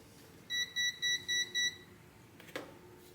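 A multimeter gives five quick, even electronic beeps in a row as it shuts off, bright and close, and a faint clunk follows a moment later.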